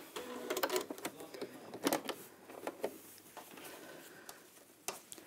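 An Elna sewing machine stitching fabric in short mechanical bursts with rapid needle clatter, pausing and restarting, fairly quiet and close by with no talking.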